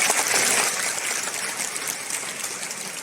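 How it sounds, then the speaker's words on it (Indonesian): Steady crowd applause fills a school assembly hall, a dense, even patter of many hands clapping at moderate loudness for about three seconds, with no voices rising above it. "Tepuk tangan."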